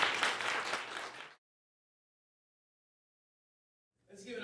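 Audience applause at a high school poetry reading, a dense burst of clapping that stops abruptly, then a stretch of silence before more clapping starts up near the end.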